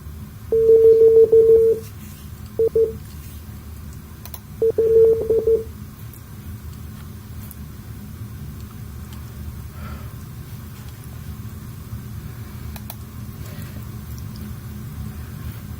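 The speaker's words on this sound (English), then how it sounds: "This is done in Morse code" A Morse code signal sounds in the MSFS 2020 flight simulator: a steady tone, a short blip, then a quick pulsed burst of beeps over a low background hum, followed by quiet.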